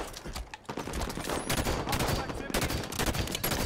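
Battle rifle fire in Halo 5 Big Team Battle, dense bursts of shots crackling over loud game action with hardly a pause, close and heavy.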